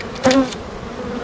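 Honeybees buzz on a hive frame, a short close burst of buzzing flying past, then a softer continuous hum.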